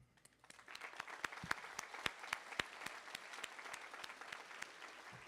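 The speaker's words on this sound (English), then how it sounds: "allow my fellow 8th graders a chance to give themselves a round of applause" Eighth graders at a middle school promotion ceremony give themselves a round of applause, a fairly faint, sparse patter of clapping with a few louder distinct claps standing out.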